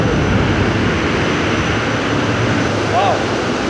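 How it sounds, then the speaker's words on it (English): Rotational heat exchanger at the Audi paint shop, part of the fresh-air preheating for the painting cabins, giving a loud, steady broadband roar of machinery and moving air, with a faint whistling tone near the end. "And that's the rotational heat exchanger."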